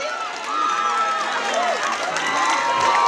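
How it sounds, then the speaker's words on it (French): A crowd cheers, shouts and applauds loudly and continuously for the newly crowned Miss Burundi at the 2017 pageant final, with excited voices and whistles rising over the clapping. "Miss Burundi, les applaudissements, mesdames et messieurs"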